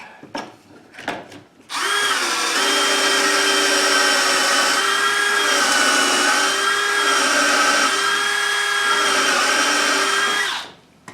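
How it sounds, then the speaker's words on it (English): A power drill bores a hole through wood on a Kreg pocket-hole jig for a potting bench build, running loud and steady for about nine seconds after a few brief knocks, its whine dipping slightly as the bit bites. "I'm gonna drill a hole here, and I'm gonna slide it over and drill a hole on the other side then"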